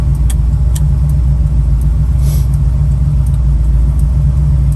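Inside a moving 1981 Chevrolet Camaro, a steady, loud, low engine drone and road rumble go on throughout with light rattles and ticks over it and no talking.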